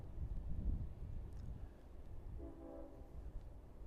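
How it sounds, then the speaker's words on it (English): A Long Island Rail Road train horn sounds about a mile away as train 2704 passes through the village of Eastport. It is a faint, brief blast late in the clip, low over a steady wind and background rumble. "There's a horn of the train 2704 coming through the village of Eastport right now, about a mile to the west of us."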